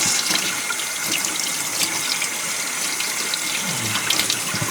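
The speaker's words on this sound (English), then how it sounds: "This is my dispenser right at my sink to wash my hands." Tap water runs steadily into a home kitchen sink for hand washing, a continuous broadband hiss with no talk over it.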